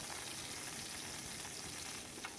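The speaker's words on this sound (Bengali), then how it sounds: "একইভাবে সব মাছগুলোকে আমি ভেজে তুলে রাখছি" Steady, dense sizzling of small charapona fish frying in hot oil, continuous and fairly loud throughout with no talking.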